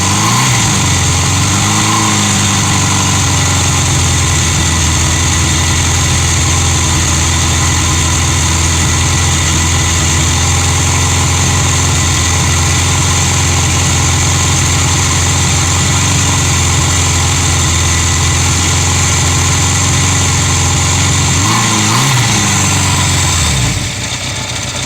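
A cold 1978 Honda 750F Super Sport motorcycle with untuned carburetors idles steadily up close, a loud, even, continuous engine drone that holds constant before cutting off near the end.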